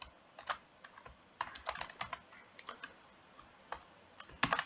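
Code is typed on a computer keyboard in quick irregular clusters of crisp key clicks, close and fairly quiet, with short gaps between bursts and no talking.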